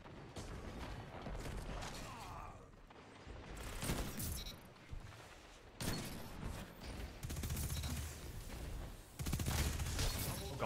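Rapid bursts of automatic fire from the Recluse submachine gun in a Destiny 2 firefight, dense crackling volleys in several loud clusters with brief gaps, alongside other game effects.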